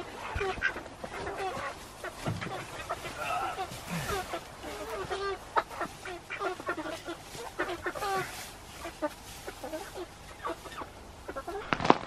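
Chickens clucking softly in a backyard around new climbing equipment, faint scattered clucks with people talking over them.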